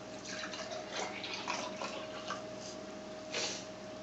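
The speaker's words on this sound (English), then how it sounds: "you're going to take your cup and you're going to pour it in" Milk poured into a measuring cup: a soft, steady liquid stream with a few splashy bursts, faint and alone with no talking.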